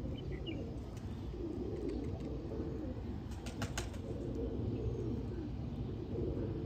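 Sialkoti breeder pigeons coo softly and continuously in a low murmuring chorus, with a few faint chirps layered over steady background noise.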